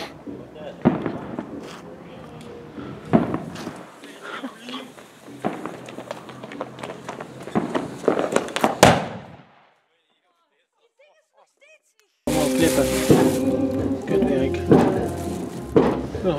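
Fireworks and firecrackers explode around a New Year celebration in Helmond, with sharp bangs and crackling bursts scattered through the scene, a short quiet gap, then a dense loud barrage; people talk throughout.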